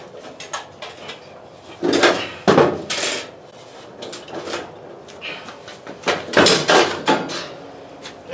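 A fluorescent light fixture being flipped over gives a series of close metallic clanks, knocks and scrapes at an irregular pace, with several louder bangs as the sheet-metal housing is handled.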